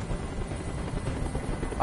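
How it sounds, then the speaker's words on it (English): A helicopter rumbles steadily overhead throughout, a broad low drone at moderate level, with speech faintly present under it. "Tell that helicopter to get out of here."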